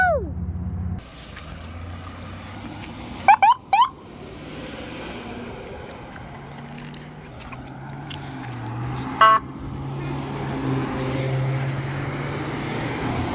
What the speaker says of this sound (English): It's nice when the policemen start beeping at you when they leave.